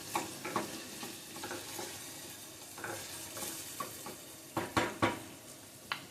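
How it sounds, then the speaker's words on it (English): Sweet and sour chicken sauce bubbles softly in a pan while a spoon stirs it, giving light scraping taps and a few sharper clinks over a faint simmer. "I'm gonna get a little spoon, stir it up, watch it bubble"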